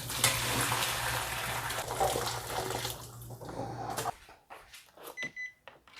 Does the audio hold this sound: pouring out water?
yes